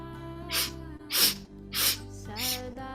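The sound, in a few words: rhythmic sniffing breaths in, Kundalini yoga breathing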